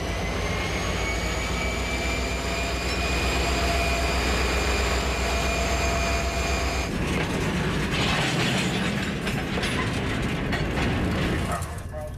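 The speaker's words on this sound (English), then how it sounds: "We come right off the brakes, give some throttle, and we take off." Freight train locomotives pulling away after the air brakes release, a loud steady rumble with droning engine tones that shifts into heavier, noisier throttle-up roar, continuous throughout.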